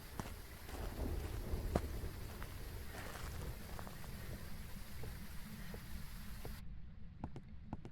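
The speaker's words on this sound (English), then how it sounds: "since it's thundering in the game" Thunderstorm ambience in the video game Phasmophobia: steady heavy rain patter with low rumbling thunder and occasional drips, continuous and fairly faint, with no talk.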